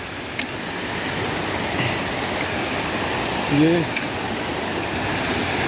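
A waterfall on a Himalayan mountain trail roars as steady, loud broadband rushing water close by, with someone briefly speaking over it.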